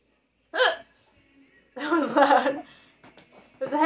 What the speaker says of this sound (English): It's a hiccup.